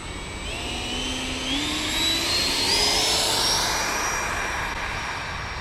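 A Freewing T-45 Goshawk 90mm electric ducted-fan RC jet flies past, its loud whining turbine rising and falling in pitch as it sweeps overhead, steady and alone without voices.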